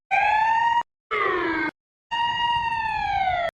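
An ambulance siren wails in three loud bursts of a rising and falling tone, close by, separated by short gaps of silence.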